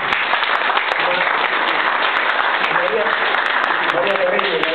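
An audience at a public assembly in Casoria on car insurance applauds a named guest, a dense, steady wash of clapping that fills the room for the whole stretch, with a few louder individual claps and faint voices mixed in.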